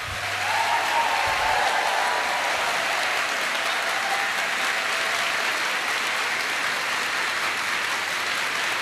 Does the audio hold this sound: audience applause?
yes